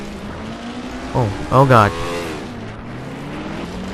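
Race cars run in a NASCAR video game race at Martinsville as a multi-car pileup unfolds. A steady engine drone lies under a brief swell of tire noise and impact sounds, and a voice reacts over it.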